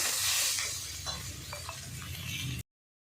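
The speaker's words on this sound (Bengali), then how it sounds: "তো আমি মাছের মাথাটা দিয়ে আরও কিছুক্ষণ কষিয়ে নিচ্ছি।" Fish head frying and being stirred in a pan for dal, with a steady broadband sizzle throughout and a few faint scraping clinks of the utensil, close and continuous, no voices.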